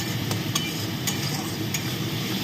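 A utensil stirs masala sizzling in a pan for chital fish muitha, a steady frying hiss with a few soft scraping strokes and no talking.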